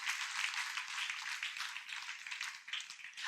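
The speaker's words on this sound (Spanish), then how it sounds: "Denle un aplauso a Jesús." A church congregation applauds, a faint, steady wash of clapping from a crowd at a distance with no voices over it.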